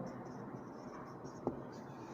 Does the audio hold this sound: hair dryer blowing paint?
no